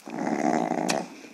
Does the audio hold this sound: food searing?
no